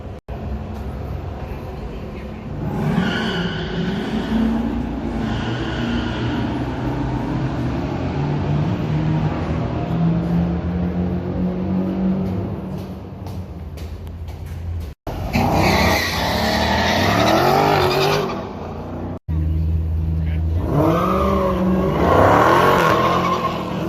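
Cars racing at a NASCAR track in Atlanta, Georgia during a car event, with loud engines roaring past in long sweeping passes and some tire squeal, fairly close and continuous with no talk.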